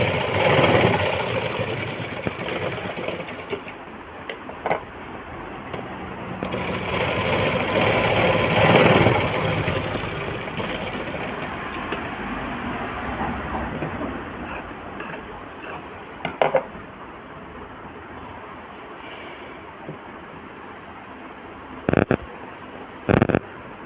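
Sewing machine stitching a frock, a steady motor whir running nearly throughout with a louder stretch near the middle, ending in a few sharp clicks and knocks.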